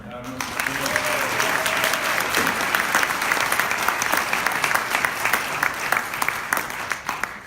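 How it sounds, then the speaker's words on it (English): An audience at a book event with crime authors breaks into loud, sustained applause, dense clapping rising quickly and carrying on evenly, with a few voices briefly audible at the start. "and a round of applause for the Poison Pen."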